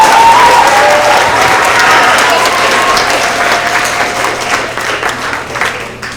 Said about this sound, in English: Let's give one final round of applause for all of our math tigers of the quarter.